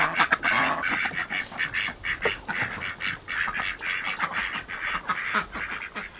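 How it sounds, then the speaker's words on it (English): Free-range ducks on a homestead in spring quack loudly and continuously, a noisy chorus of overlapping calls close by with no talking. "Those rotten ducks are making us work for our legs."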